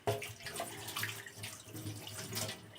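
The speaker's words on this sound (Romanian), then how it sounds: "Punem cam 50 de ml de apă" About 50 ml of water is poured into a pot for cooking an apricot cream filling, a close, splashing, gurgling flow that continues unevenly throughout at moderate volume.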